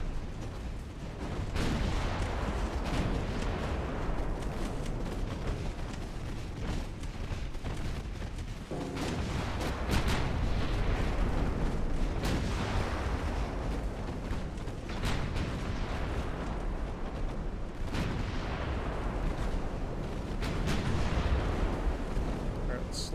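Naval guns firing armor-piercing shells in the warship game Ultimate Admiral Dreadnoughts, with repeated heavy booming salvos over a rumbling battle backdrop, loud and continuous, partly under someone talking.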